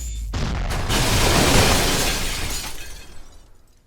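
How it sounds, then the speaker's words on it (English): A power sink detonates in the game Space Station 14, a loud booming blast with a shattering glassy crash that swells, holds for about two seconds, then crackles and fades away. "The explosion effect is pretty devastating. It can wipe out an entire department."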